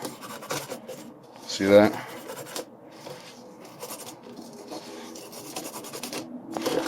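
Coarse salt is rubbed against rusty nails, giving a dry gritty rasping and scraping in short uneven strokes, with a brief spoken remark partway through.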